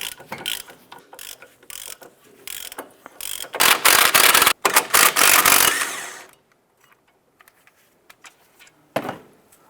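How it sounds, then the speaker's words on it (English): A 15mm socket ratchet clicks rapidly in bursts while loosening a brake caliper bracket bolt on a Ford Fiesta, with heavier grinding clicks midway, then sparse faint ticks and a final short burst. "We're going to remove the brake caliper bracket bolt here and then one up top."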